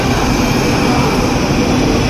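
Steady, loud rushing roar from inside a Chinese high-speed train running between Chengdu and Chongqing, a continuous broadband hum and rumble with no talking.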